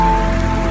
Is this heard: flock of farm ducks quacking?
no